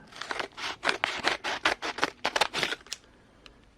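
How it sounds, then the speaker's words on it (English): Scissors snip through the plastic packaging of a Boom Racing BRX01 ZIL pickup RC kit, a rapid series of about a dozen close crisp cuts in quick rhythm, then quiet. "I'm going to use scissors instead of tearing this open."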